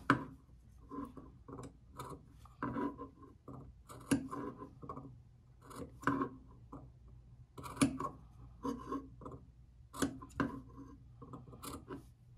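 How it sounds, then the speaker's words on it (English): Scissors snip notches about an eighth of an inch into sewing fabric for a pocket, a long irregular run of crisp close cuts with short pauses between bursts, no voices. "Or you can just slip little notches, okay, depending on what fabric you're working with. Okay, so I'm snipping it about 1/8."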